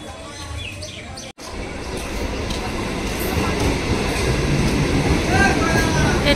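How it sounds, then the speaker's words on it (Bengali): An up train pulls into a station platform, its low rumble and clatter swelling steadily louder after a brief dropout, with faint chirps above the din. "এটা ঢুকলো আপ ট্রেন"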